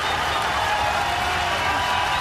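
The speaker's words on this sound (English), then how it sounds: "Huge cheers, as you can imagine, from the crowd" A large crowd cheers and applauds steadily throughout at a strongman competition, a dense, sustained roar of clapping and voices at an indoor Super Series Grand Prix event in Gothenburg.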